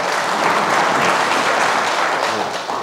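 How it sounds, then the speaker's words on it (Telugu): An audience at a journalists' district meeting in Anantapur applauds with dense, steady clapping from many hands, easing off slightly at the end. "మరి మీ అందరు చప్పట్లు ఒకసారి తెలియజేద్దాం"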